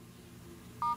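A phone keypad sounds one short DTMF dialing tone near the end of a quiet second, a clean steady beep standing alone.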